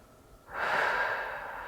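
A single breath drawn during a seated yoga neck stretch, heard close and alone as one soft, airy rush that swells quickly and holds steady for about a second.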